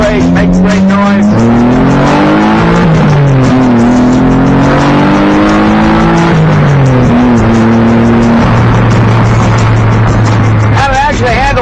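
An '89 Ford Festiva fitted with a Taurus SHO engine and nitrous revs hard and loud, its pitch climbing and dropping through several sweeps before settling into a steady high drone.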